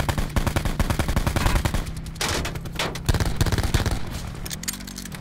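Rapid automatic gunfire from Call of Duty Blackout crackles in close, dense bursts, with sharp shots stacking into a fast fusillade that pauses briefly before a second volley, alone without speech.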